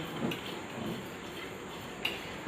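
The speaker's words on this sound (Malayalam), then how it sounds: "അത് നമുക്ക് നന്നായി ഇളക്കി കൊടുക്കാം." A spoon stirs a pepper powder mixture in a pot, giving faint, sparse clinks and soft scraping against the metal in a quiet room.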